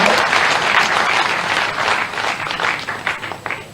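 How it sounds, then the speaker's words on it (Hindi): A crowd at a BJP party office in Bhopal gives a dense, sustained round of clapping to welcome a political leader from Gwalior. The applause is loud at first, then thins out toward the end. "जरा जोरदार ताली बजा के स्वागत करो भाजपा के चुनाव में"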